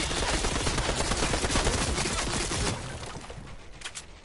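Rapid automatic gunfire in a video game, loud and dense bursts blending into a continuous rattle, then tapering into scattered shots and faint clatter.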